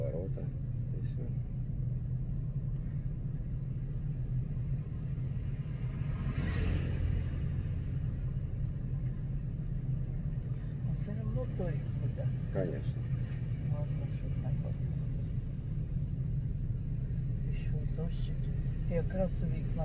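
A car rolls slowly in second gear, its engine a constant low rumble heard from inside the cabin, with voices talking over it throughout.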